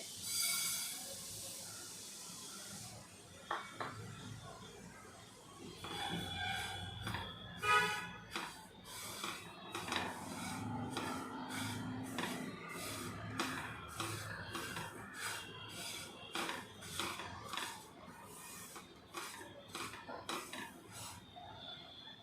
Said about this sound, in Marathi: आता आपल्याला तीळ चांगले खरपूस भाजून घ्यायचे आहे